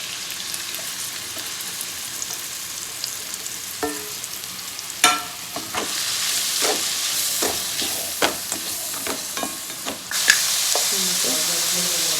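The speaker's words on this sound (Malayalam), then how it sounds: "ഇനി തന്നെ നമ്മൾ ഉള്ളി വഴറ്റിയെടുക്കാം" Onions sauté in a pan with steady sizzling, punctuated by spatula clacks and stirring scrapes, and the frying swells louder after fresh stirring.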